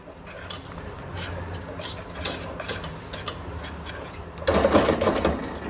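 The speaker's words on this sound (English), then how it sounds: "I'm just mixing eggs with it." Eggs being stirred into a dry chocolate pie mixture in a bowl, a steady rubbing, scraping churn that grows louder and denser toward the end, with no talking.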